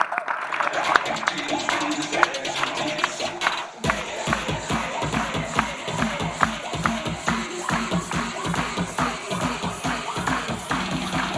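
Audience at a televised Indonesian girls' night game show claps for two contestants, a dense patter of hands that pauses briefly, then resumes with rhythmic beats as music starts.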